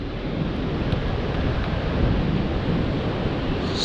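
Wind and surf at My Khe Beach in Da Nang make a steady loud roar, with strong wind buffeting the microphone over the continuous wash of waves and no voices.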